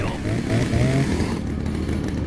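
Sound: chainsaw from Resident Evil 4 video game

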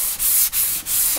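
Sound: sanding wood with a sanding block and 180-grit sandpaper

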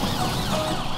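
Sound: cartoon truck sirens switched on

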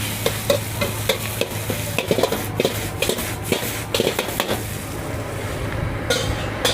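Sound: wok stir-frying rice

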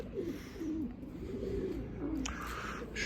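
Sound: breeding pigeons cooing

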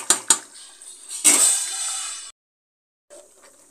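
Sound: stirring mutton biryani rice in a cooker pot

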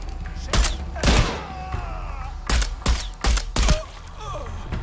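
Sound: gunfire in video game Shadow of the Tomb Raider

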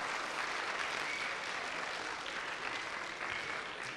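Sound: audience applause for the jury

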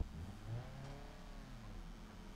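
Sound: manual car engine starting and revving in BeamNG.drive video game

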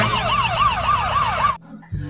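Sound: toy ambulance siren

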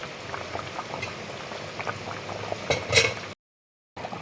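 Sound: taro and tangra fish curry boiling in a covered pot

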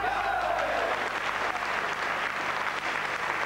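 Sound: spectators applauding at a table tennis match

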